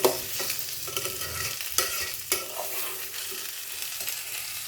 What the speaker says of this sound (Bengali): এবার আমি চালটাকে এটার মধ্যে দিয়ে দিচ্ছি। ভালো করে নাড়তে হবে